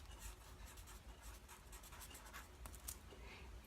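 Pen or marker writing labels on sewing pattern paper for a back bodice facing, a soft steady scratching and rubbing that runs quietly and close throughout, ending in a brief louder bump.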